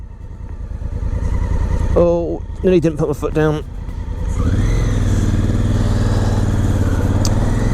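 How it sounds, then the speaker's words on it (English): Exhaust of a 2017 Honda Africa Twin motorcycle on the road, a loud steady engine drone with a burst of revving and rising pitch midway, while a rider briefly speaks over it. "Love the exhaust. Sounds good."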